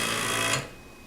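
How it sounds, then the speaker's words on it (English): An airbrush air compressor runs with a steady mechanical hum and hiss, then cuts off abruptly after about half a second, leaving near silence. "the compressor will automatically stop when the airbrush is not in use"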